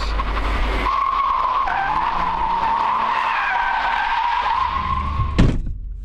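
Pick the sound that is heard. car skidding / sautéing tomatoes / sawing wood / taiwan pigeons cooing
car skidding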